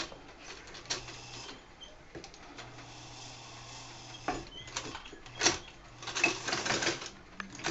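A flatbed sewing machine stitches fabric lining in quiet, intermittent bursts of mechanical whirring and ticking, separated by short pauses.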